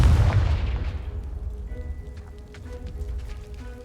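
A Confringo blast spell explodes a piled barricade in Hogwarts Legacy, a loud booming burst up front that decays into a long rumbling, crackling tail of falling debris.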